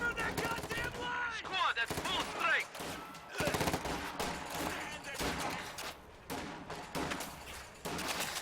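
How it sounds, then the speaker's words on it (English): Bursts of M1919 machine gun fire in the Company of Heroes 2 war game, rapid rattling volleys overlapping other gunshots and explosions, loud and dense with short gaps between strings of fire. "They also changed the noise from the M1919s, and as you heard there, they sound a bit weird now."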